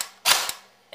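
Echo 1 Stag 15 M4 airsoft rifle firing a single shot: one sharp, loud, close crack with a brief mechanical tail, followed by the start of another burst of sound at the end.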